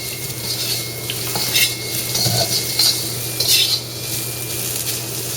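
Tofu pieces frying in a pan for a Balinese coconut curry, a continuous close sizzle with light scraping and clinks of a utensil against the pan now and then, no talking.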